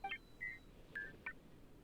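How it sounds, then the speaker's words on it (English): A few soft electronic beeps and boops from a robot in Genshin Impact: a quick trill of tones, a held note, then two more short chirps spaced out, quiet with no talking. "Robot beep boop noises."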